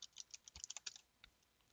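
Root password being typed on a computer keyboard, with a quick run of about a dozen light, close key clicks and a couple of final taps, faint and with no voices.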